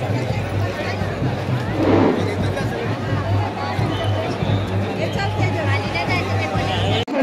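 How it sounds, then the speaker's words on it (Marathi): Crowd hubbub at the Ekvira Aai palanquin festival: a dense, continuous babble of many voices with a low steady hum beneath, close and fairly loud, with someone talking over it. "बघा पुरी गर्दीच गर्दी आहे"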